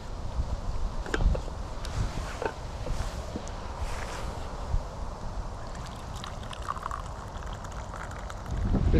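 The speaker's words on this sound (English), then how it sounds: "It's really windy today, so I'm sorry if you can't really hear me." Strong wind buffets the microphone in a steady broadband roar, gusting and swelling toward the end, outdoors at a fishing lake beside an aerator. No one speaks.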